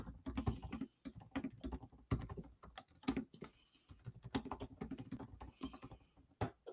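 Fast, uneven clicking of a programmable mechanical keyboard with colour lighting, keystrokes tumbling in quick bursts with short pauses, close and fairly quiet with no talking.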